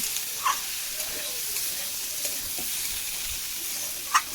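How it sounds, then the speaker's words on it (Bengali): Dry vegetables being stirred and fried in a pan with no water added, a soft continuous sizzle and hiss with a couple of brief clinks of a spatula against the pan. "সবজিগুলোকে নাড়াচাড়া করে একদম লাল লাল করে ভেজে নেব"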